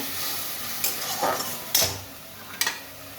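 Spice paste water poured into a hot pan on a home stove, with a few sharp sizzling bursts and light stirring and utensil clinks over a low, steady background hiss.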